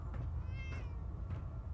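A cat in Fallout 4 gives a few short meows, the clearest a drawn-out, tonal call near the middle. The meows sit over a constant low ambient hum.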